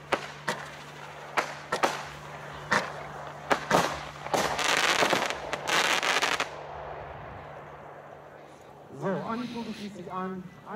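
A firework battery with 20 mm calibre shots and 122 grams of explosive mass fires sharp bursts at irregular intervals, then a denser crackling volley, followed by a quieter tail and a voice speaking.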